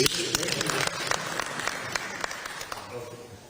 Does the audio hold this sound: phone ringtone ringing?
no